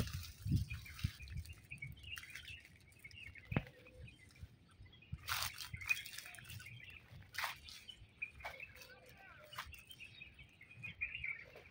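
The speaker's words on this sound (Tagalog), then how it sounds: "Narinig mo yung mga huni ng mga ibon" Birds chirp and call in a grassy park in Riyadh, scattered bright tweets rising above a soft outdoor background with occasional light patter and faint distant activity.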